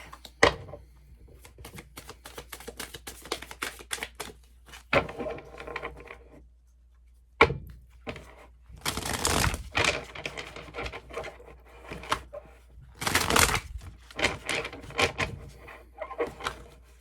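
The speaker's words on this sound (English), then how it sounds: "Let me shuffle first because I'm using the same deck for all" Crisp clicking and riffling of a deck of playing cards being shuffled up close, in irregular bursts with brief pauses and a couple of louder flurries.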